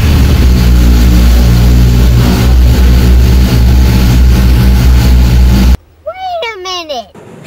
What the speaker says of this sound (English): you guys must really listen to this exhaust note